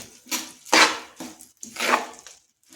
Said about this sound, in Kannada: ಇವಾಗ ರೈಸ್ನೆಲ್ಲ ನೀಟಾಗಿ ಮಿಕ್ಸ್ ಮಾಡಿ.